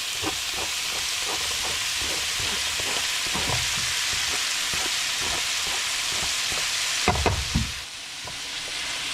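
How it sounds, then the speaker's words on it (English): Sliced peppers and onions sizzle and fry in a hot pan, a steady bright crackle with occasional soft scrapes and stirring knocks, growing busier near the end before settling. "I'm going to slide the peppers and onions in."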